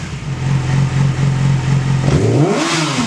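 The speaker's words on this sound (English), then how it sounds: "Alright, so now we're going to go ahead and rev it up." A Yamaha R6 sport bike with a straight pipe idles loudly, then its engine is revved sharply, the pitch climbing and falling in a quick rising sweep.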